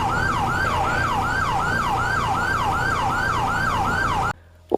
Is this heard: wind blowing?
no